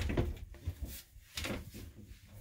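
An interior hallway door in a 2003 Bounder 39Z motorhome is pushed shut, giving a few soft, muffled wooden knocks and a brief rattle, quiet and close in a still room.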